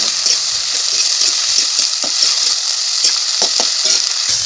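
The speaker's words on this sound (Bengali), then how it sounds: "তারপরে কিছুক্ষণ ধরে নেড়ে নেবো।" Ginger and garlic paste frying in oil while being stirred for a chicken and Malabar spinach curry, a loud continuous sizzle broken by repeated scraping strokes of a spoon, no speech.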